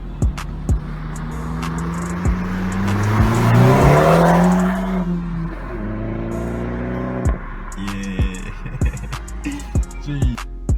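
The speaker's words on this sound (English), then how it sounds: "I heard him pulling in, and I knew that's got an exhaust mod" Vauxhall Corsa VXR with a modified exhaust pulling in, its engine note rising loudly and then falling back as it passes close by, followed by sharp clicks and knocks.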